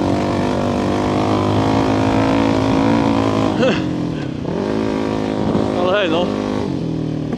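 A VOGE 300 Rally enduro motorcycle engine runs loudly off-road, its pitch rising and dipping with throttle changes, with a rider speaking briefly over the engine.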